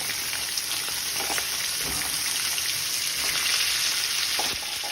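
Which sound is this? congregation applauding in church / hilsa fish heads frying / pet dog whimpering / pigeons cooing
hilsa fish heads frying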